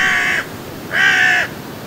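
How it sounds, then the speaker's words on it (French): Crows cawing around a tent in a cornfield at dawn, two loud harsh calls about half a second apart, close by with no talking. "Voilà des corbeaux hein, qui se manifestent autour de la tente"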